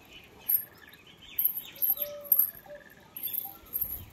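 Pigeons and their chicks in a home coop, with sparse soft chirps and high calls coming in short bursts over a quiet background, fairly near and faint.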